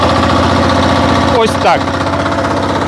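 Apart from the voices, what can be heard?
engine idling as revs are lowered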